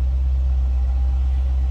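A 2011 Dodge Challenger SRT8 idles with a steady, deep exhaust rumble, close and constant with no talk.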